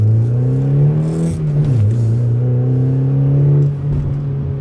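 A Mazda MX-5 engine revs loudly and close by, a strong steady drone that dips briefly, climbs again and holds before easing off.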